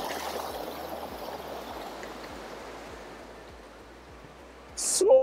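A mountain stream in Gurez Valley, Kashmir, rushes steadily in a broadband wash that eases slightly over time, with a brief louder burst of nearby noise and a short voice near the end.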